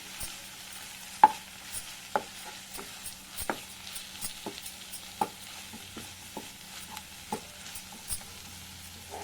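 Pudina pulao being stirred in a pan after garam masala powder goes in: sparse, sharp scrapes and clinks of a spoon, roughly one every second, over a faint low sizzle, close and fairly quiet with no talking.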